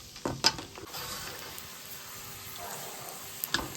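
A cup of peanuts frying in oil for mirchi bajji stuffing, a faint steady sizzle with occasional clinks and scrapes of a utensil against the pan.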